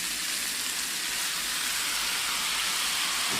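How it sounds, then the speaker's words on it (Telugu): Tomato pieces dropped into hot oil for a mixed vegetable and pea curry give a loud, steady sizzle and hiss that fills the whole short stretch, close and continuous with no voices. "టొమాటో ముక్కలు వేసేస్తున్నాను నేను."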